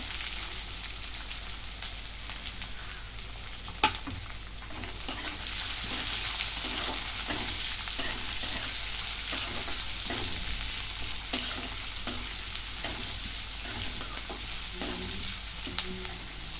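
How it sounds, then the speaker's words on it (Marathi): Chopped onion with curry leaves sautés in hot oil for a potato bhaji served with dosa, a steady sizzle and crackle broken by light scraping and stirring taps throughout. "दोन मिनिटाला परतून घेते आता कांदा घेतलाय मी"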